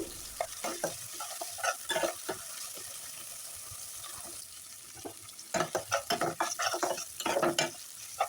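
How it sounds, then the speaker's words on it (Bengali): Masala paste of onion, garlic and cumin being stirred and fried in a pan, with repeated scraping strokes and a steady sizzle, growing busier and louder toward the end. "সব মশলাটা আমি ভালো মতো নেড়ে ছেড়ে আর কিছুক্ষণ কষিয়ে নেব"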